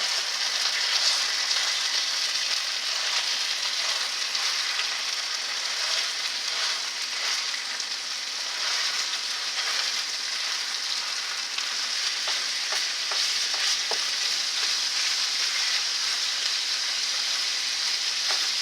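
Ground meat for a deep dish pizza sizzles loudly in a hot pan, a steady bright crackle that runs throughout, with occasional scraping and stirring as the meat is broken into smaller pieces.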